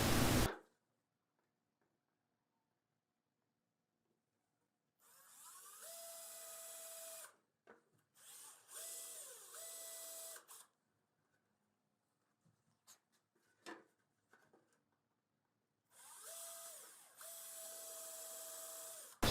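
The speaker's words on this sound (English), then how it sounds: "Now I'm just marking the fitting to drill some holes. I'm going to countersink it a little bit" A power drill boring and countersinking holes in a dust collection fitting for a table saw chute, heard as several whining bursts a few seconds long with a rising pitch as each bit bites, separated by quiet handling clicks.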